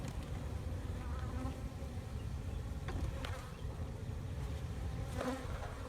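Honeybees buzz around an open hive during an inspection, a dense continuous drone with a few individual bees passing close and fading, no talking.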